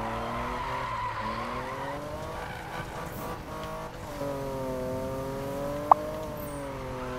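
A BMW E46 GTR drifts in Need for Speed 2015, its engine droning with shifting revs and the tires skidding steadily through the slide, plus a sharp click near the end.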